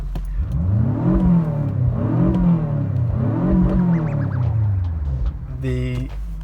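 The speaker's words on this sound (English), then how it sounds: "I can rev it all the way to the end when I'm at a standstill" A tuned BMW X6M, limiters removed, revs repeatedly to the limiter while at a standstill: three rising-and-falling engine sweeps, loud and close, then a brief high whine near the end, with a voice talking over it.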